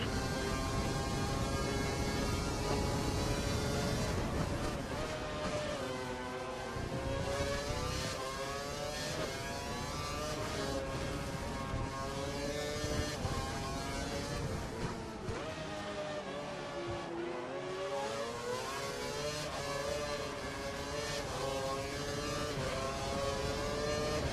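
Formula 1 race car engine screaming at full revs in the racing game F1 2012, a continuous loud high-pitched whine with rising and falling gear-shift sweeps throughout.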